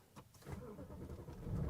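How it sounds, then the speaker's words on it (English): A BMW E90 M3 starting by push button inside the cabin, a brief low crank rising into the engine catching near the end, close and muffled. "Push button start."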